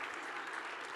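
A short, dense burst of crowd applause fills a stage event at the Rashtra Sarvopari Sammelan 2025, steady and moderately loud for about a second.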